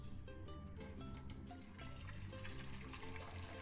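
Hot water pours steadily into a big cooking pot in a home kitchen, making a continuous loud gushing and splashing sound with no talk.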